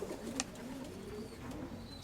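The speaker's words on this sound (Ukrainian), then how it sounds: "Ось ми з голубкою." A pigeon cooing softly in low, rounded, repeated calls against a faint background, with a few small clicks and rustles.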